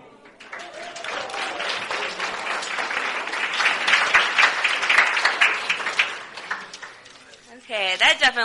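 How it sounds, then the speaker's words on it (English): Audience applause at a Young America's Foundation speaking event, a dense wash of clapping that swells and holds for several seconds before fading, with a brief burst of other sound near the end. "That definitely deserves a round of applause."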